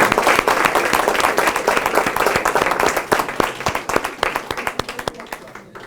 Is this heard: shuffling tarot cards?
no